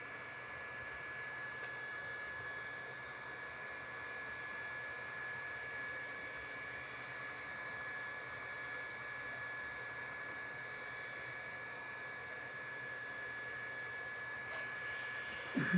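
A hot air welder seals a seam on DynaSet modified bitumen roofing as a wheel is run along the lap. It gives a steady, close, unbroken blowing hiss that continues alone with no talk.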